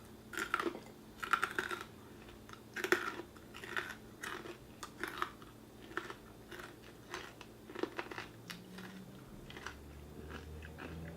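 Crispy honey-glazed fried chicken is chewed close up, with repeated crunchy bites and soft mastication sounds in an irregular rhythm, fairly quiet.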